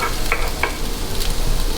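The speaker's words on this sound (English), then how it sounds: "you hear that sizzle?" A steady, close sizzle of onion frying in a pan, with a couple of faint clinks and stirring sounds over it.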